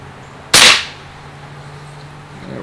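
A single sharp shot from a Winchester 1977XS pump air rifle charged with four pumps and firing Norma pellets, one loud crack with a short decay, then quiet background.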